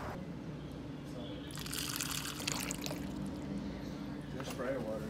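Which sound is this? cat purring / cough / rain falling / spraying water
spraying water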